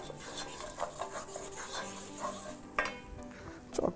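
Chicken pieces sear in a hot pan for a creamy mushroom chicken dish, a soft continuous sizzle broken by the scrape and clatter of stirring utensils, close and fairly quiet with no talking.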